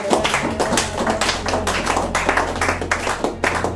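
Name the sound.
congregation applauding in church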